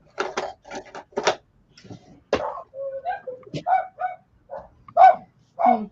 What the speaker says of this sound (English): Dog alert.